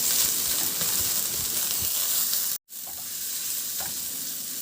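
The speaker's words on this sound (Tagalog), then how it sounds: "igisa ko na rin yung bawang at luya. Isunod ko na rin ilagay yung sibuyas." Garlic, ginger and onion sauté in a little oil in a pan, giving a steady close sizzle with faint stirring scrapes. A brief silent cut falls midway, and no one speaks.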